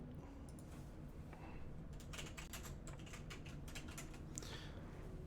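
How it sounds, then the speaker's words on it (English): Quiet, close keystrokes on a computer keyboard come in irregular bursts of rapid taps over a low room hum, with no talking. "You can probably hear the tappity tapping from the keyboard."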